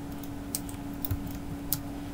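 A few sparse, quiet keystrokes tap on a computer keyboard while someone designs an HTML and CSS admin template, sounding as light isolated clicks over a steady low hum.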